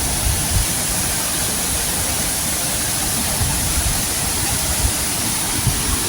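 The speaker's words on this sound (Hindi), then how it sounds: "ऊंचा बोलना पड़ रहा है क्योंकि ज़ाहिर है पानी की आवाज़ बहुत ज़्यादा है" The waterfall at Masuleh in northern Iran roars loud and close, a dense, unbroken rush of falling water that fills the whole clip without pause.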